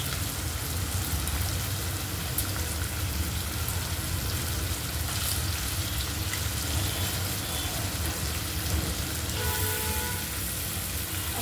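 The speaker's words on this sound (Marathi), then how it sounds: "आता आपण कांदा आणि टमाटर टाकू" Onion and tomato fry in a pan for a sprouted moth bean (matki) bhaji. A steady, even sizzle with a rain-like hiss continues throughout at moderate loudness.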